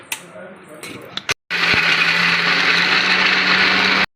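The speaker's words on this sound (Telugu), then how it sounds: "ఇప్పుడు మనం దీన్ని మిక్సీ పట్టేసుకుందామండి." Mixer grinder grinding coconut chutney ingredients with tamarind, garlic, coriander and salt, starting after a brief pause with a loud, steady motor whir that runs evenly to the end, preceded by faint kitchen clatter.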